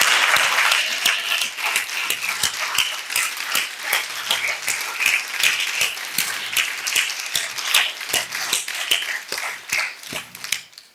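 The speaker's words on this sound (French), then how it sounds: "Est-ce que quelqu'un peut acclamer pour le Seigneur?" A church congregation at a Sunday sermon bursts into sustained applause and cheering for the Lord, dense overlapping claps carrying steadily for the whole stretch at close, loud level with scattered voices mixed in.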